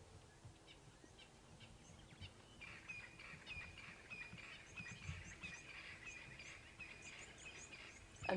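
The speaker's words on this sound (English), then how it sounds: "Here goes our starlings." Flock of starlings calling at sunrise on a safari drive, a faint, distant cacophony of overlapping chirps and whistles that thickens midway and keeps going.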